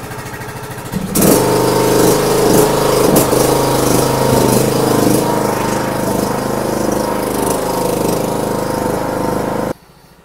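A lawn mower engine, already started, runs loud and close with a steady rattling drone for about eight seconds, then cuts off suddenly.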